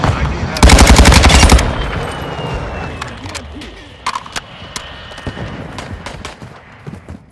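Machine gun fire in Call of Duty Modern Warfare 2 multiplayer: a loud, rapid burst of automatic shots about a second long, followed by quieter scattered distant gunshots and battle noise.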